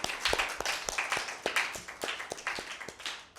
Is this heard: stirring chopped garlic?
no